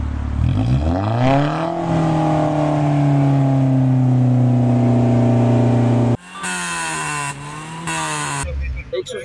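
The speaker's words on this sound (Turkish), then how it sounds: "Egzozlardan çıkan sesler vatandaşların büyük tepkisini çekerken" Car with a loud modified exhaust, stopped during a roadside noise inspection, revs up and holds a steady drone, then revs in sharper repeated bursts, close and loud.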